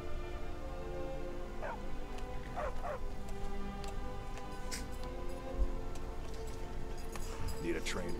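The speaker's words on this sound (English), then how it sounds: "Need a trained war dog?" A war dog in a video game market lets out a few short yips and barks at moderate distance, set over steady ambient game noise and faint ticking.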